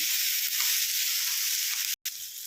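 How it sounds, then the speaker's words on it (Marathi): Sliced onions and tomatoes fry in a pan with a steady, bright, close-up sizzle that holds evenly throughout, broken by one brief dropout, and no speech. "आता आपण टाकून घेऊया दोन मी तंबाटे घेतलेले आहे आणि उभे कट करून घेतलेले आहे आणि ते पण याच्यामध्येच आपल्याला फ्राय करून घ्यायचे आहे"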